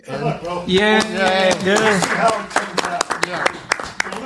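At a live podcast recording before an audience at Macstock, someone speaks briefly, then scattered, sharp handclaps break out. The claps are sparse and uneven, growing more frequent toward the end.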